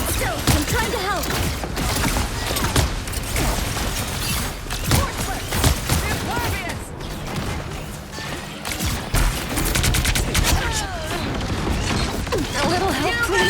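Rockets launching in the Marvel Rivals video game amid a busy battle, with repeated bursts and crashing impacts layered over continuous combat noise and character voice lines.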